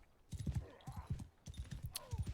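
Horse hooves in the video game Mount and Blade II: Bannerlord clip-clopping in quick groups of rhythmic beats, close and moderately loud, with a brief snort.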